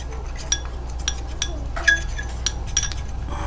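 Seaweed facial mask ingredients being mixed in a bowl, light clinks and taps of a utensil against the dish at an irregular pace over a low background hum.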